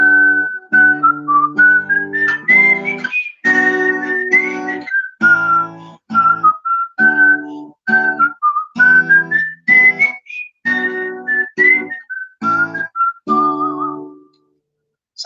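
A folk tune's A part is played with chords on guitar, with steady chordal strums underneath and a bright whistled-sounding melody line on top that moves up and down in short phrases.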